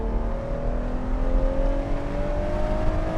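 Ferrari 812 GTS with a 6.5-liter V12 screams near its 9,000 RPM limit, a loud sustained high-pitched engine wail with steady rising harmonics and no pauses.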